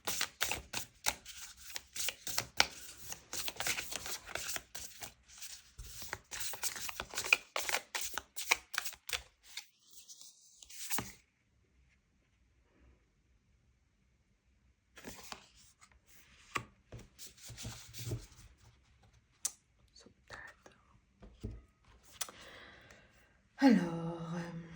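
Oracle cards are shuffled with soft, rapid riffling and flicking bursts, then a card is drawn, with a quiet pause in the middle and a few faint rustles and taps close by.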